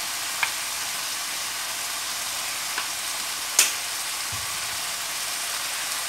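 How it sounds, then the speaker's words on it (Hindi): Vinegar goes into a pan of sizzling spicy stir-fry, a steady broadband frying hiss with a few faint splutters and one sharper crackle midway, all without talk. "अब डालेंगे विनीगर 2 चम्मच"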